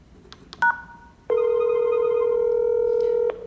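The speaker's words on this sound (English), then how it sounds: "I will press the fast dial button" A Dinstar 4G SIP intercom fast dial button sets off a few short tone beeps, then a long steady dial tone rings out loud and clear for about two seconds before stopping.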